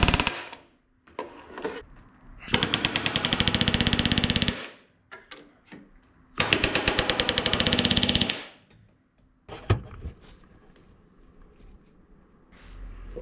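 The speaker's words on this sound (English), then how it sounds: "I'm going to try to use the back rivet tool on the outside with a bucking bar on the inside" A back rivet tool hammers against a bucking bar, setting rivets on the flap of a Van's RV-7A experimental airplane: two loud, rapid, machine-gun-like bursts of a couple of seconds each, with scattered taps and handling knocks in between.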